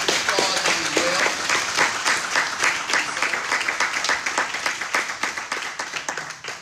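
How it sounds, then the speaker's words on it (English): A candidate forum audience in Dothan applauds the candidates, a loud close crowd clapping with distinct individual claps standing out, holding steady and then tapering slightly toward the end. "I think you all should applaud them as well"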